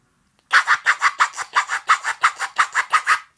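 Beatbox vocal percussion imitating a record scratch, made by breathing in fast: a rapid, evenly spaced train of about fifteen raspy inhaled scrapes after a short silence, close and loud with no talk.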